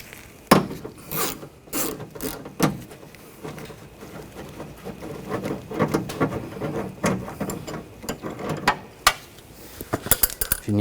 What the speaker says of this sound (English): Using a 10mm socket,